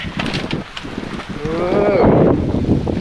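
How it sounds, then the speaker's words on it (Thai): Wind gusts steadily past the microphone at a hilltop viewpoint on a farm along the road to a mountain village, a loud rumbling buffet that swells toward the end, with a faint tonal whine partway through and no clear speech. "แล้วก็มีลมพัดมา ตลอดเลยนะครับ"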